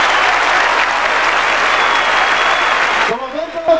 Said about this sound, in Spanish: Un fuerte aplauso para Tito.